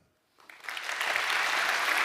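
Conference audience at a Python developer event clapping to cast a vote, starting from near silence and swelling into steady, dense applause that keeps building and holds loud to the end.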